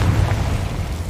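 Confringo blasting spell in a Harry Potter video game: a loud, deep, rumbling explosion boom with heavy low-end rumble filling the whole brief moment, no talking.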